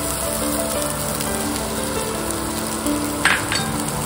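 Gram flour (besan) sautéing with cooked cabbage in a pan, producing a continuous close sizzle with faint scraping of stirring and a brief louder clatter near the end, without speech.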